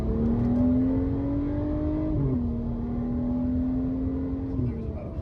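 A car accelerates hard, its engine note climbing steadily through a gear change and continuing to rise, loud and close throughout.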